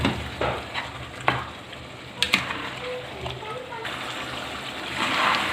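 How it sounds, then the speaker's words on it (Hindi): Chicken koftas simmer with softened tomatoes in a pan, giving a steady low sizzle and bubbling with occasional sharper clinks and stirring taps throughout. "अब कोफ्तों को मैं टमाटरों के साथ थोड़ी देर पकाऊंगी"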